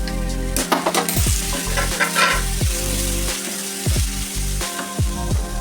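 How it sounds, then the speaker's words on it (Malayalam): Ripe bananas fry in ghee with a loud, steady sizzle while a spoon repeatedly scrapes and stirs through the pan in uneven strokes. "നെയ്യ് ഇട്ട് കൊടുക്കാൻ ഇതിലേക്ക് നീന്തപ്പഴം ഇട്ട് കൊടുക്കാം"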